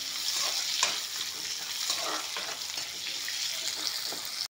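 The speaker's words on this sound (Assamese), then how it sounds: "পিঁয়াজখিনি, নহৰু, তেজপাত, পাঁচফোৰণখিনি একেলগে ভাজি ল'লোঁ।" Onion, garlic, bay leaf and five-spice seeds crackle in a hot pan with a continuous sizzle. Stirring scrapes and a few soft knocks come through, with no voices.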